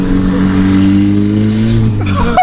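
A straight-piped VW GTI with a 3-inch downpipe holds a loud, steady turbocharged rev for about two seconds, then drops off into a sharp burst of turbo whoosh and crackle.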